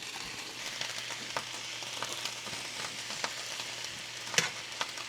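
Potatoes frying in a pan alongside corned beef and cabbage give a steady, fairly quiet sizzle with scattered small pops and crackles, one sharper pop standing out near the end, with no talking.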